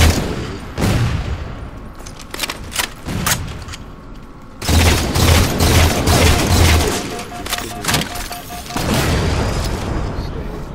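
A sticky launcher in a video game fires and detonates over and over amid other gunfire. Loud, dense bursts and booms keep coming with brief lulls between volleys, and a voice may be buried in the din.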